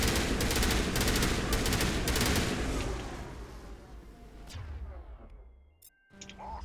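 Rapid bursts of shotgun and automatic gunfire from the Mass Effect video game, loud and dense for several seconds, then fading into quieter scattered shots and clanks before a final sharp report.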